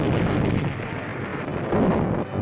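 Dense, continuous low rumbling roar of a 1943 World War II naval bombardment at Tarawa, booms and gunfire blending into one heavy wash of noise.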